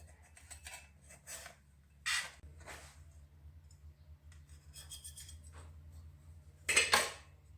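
A knife cuts through a soft mandarin cake cooked in a pan, giving quiet scraping strokes against the pan that end in a louder final scrape.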